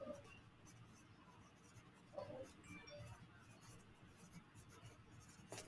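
Faint scratching and rubbing of writing on a surface during a math lesson, a soft continuous scrawl with small bursts, close but low in level.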